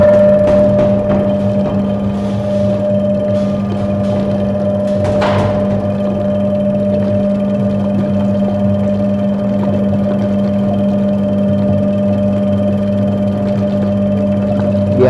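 A 2 kg dough mixer machine running, a steady motor hum with a constant tonal whine, close and continuous, with a brief clatter partway through.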